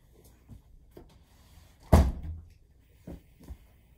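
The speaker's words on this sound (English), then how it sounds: "Shut the door." A door shuts with one sharp, close thud midway, surrounded by faint knocks and small handling bumps, with no voices.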